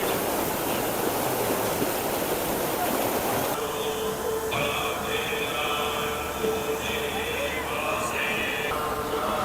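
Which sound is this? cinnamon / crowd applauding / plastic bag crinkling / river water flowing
river water flowing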